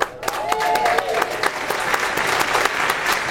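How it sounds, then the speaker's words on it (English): Audience at a live show applauds steadily, a dense wash of clapping with a few cheers sustained through the moment, fairly loud and close, with some voices mixed in. "Thank you for the applause"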